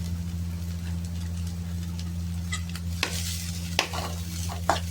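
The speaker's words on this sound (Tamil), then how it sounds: "ஆனியன் வதங்கிட்டு இருக்கும்போது நம்ம உப்பு கொஞ்சம் சேர்ப்போம்" Onions and cabbage sauté on a tava for a street-style burger, a soft steady sizzle over a constant low burner hum, with a few sharp spatula taps and scrapes toward the end.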